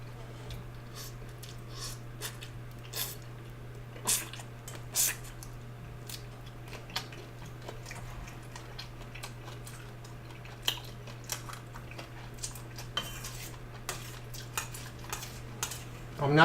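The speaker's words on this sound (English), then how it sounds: "I'm not eating the shell, I'm eating around it." Close, quiet eating of shrimp and shrimp scallop shiitake mushroom soup: soft clinks of cutlery and dishes with light chewing and sipping. The sounds are spread out over a steady low hum.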